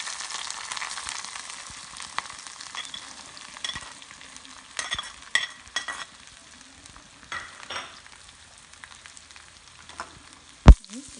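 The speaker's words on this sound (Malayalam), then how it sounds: "അരിഞ്ഞു വെച്ചിരിക്കുന്ന സവാള ഇതിലേക്ക് ആഡ് ചെയ്ത് കൊടുക്കാം." Sliced onions hit hot oil already holding cloves, star anise and cinnamon for a Kerala beef masala fry. A steady, close sizzle with stirring scrapes and a few sharp clinks, and one loud knock near the end.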